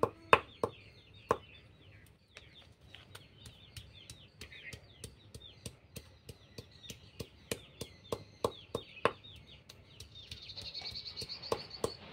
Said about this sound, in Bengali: এরপর আমি আদা, শুকনো লঙ্কা, আদা, রসুন একসঙ্গে বেটে নিব